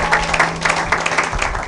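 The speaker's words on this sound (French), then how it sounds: "Acclamons pour la gloire de notre Dieu" Church congregation applauding in praise during a sermon, a steady dense clapping wash that carries through the whole stretch at close range, with a faint sustained tone beneath.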